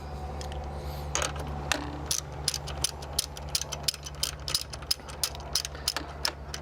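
Ratchet wrench clicking in quick repeated bursts while tightening a car battery hold-down, close and fairly crisp over a steady low hum.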